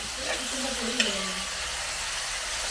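Green chillies and curry leaves sautéing in a pan give a steady, soft sizzle and hiss, with a brief clink partway through and no voices.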